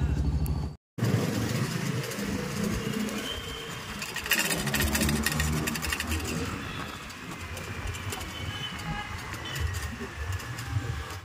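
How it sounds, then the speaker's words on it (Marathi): A car engine runs steadily while driving to a school friend's birthday celebration, a continuous close rumble with road and traffic noise throughout and a brief dropout near the start. "आता गाडी करूया चालू"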